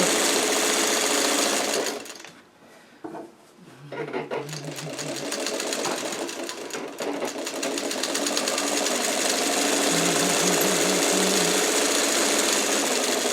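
A sewing machine stitches a pillowcase seam, running steadily for about two seconds, halting briefly, then resuming in a long continuous whir that carries on to the end with a faint low hum beneath.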